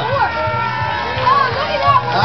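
Audience cheering at a Gatorland show, an excited crowd of kids and adults shouting in bursts, loud and close, with a voice speaking over it.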